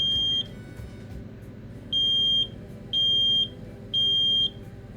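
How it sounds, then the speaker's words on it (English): A household smoke detector under test sounds four loud, shrill beeps in an even rhythm, each about half a second long, close by with quiet room tone between them. "You'll also want to test your smoke detectors"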